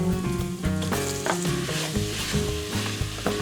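Chicken pieces sizzle and fry in hot oil for Filipino pansit, a loud, close, continuous crackling with steady stirring scrapes and no talk.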